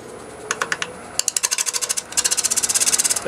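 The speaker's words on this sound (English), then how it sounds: "That noise you hear is the super glue." Super glue applied to a wooden turned piece during a foot repair, heard as sharp, rapid clicking bursts that come in short runs and then a long steady train of ticks, close and crisp, with no talking.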